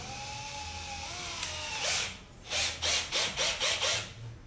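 A handheld power drill runs in a series of short, close bursts, the first longer, then five quick pulses in a steady rhythm, while screws are driven in an awkward, hard-to-reach spot.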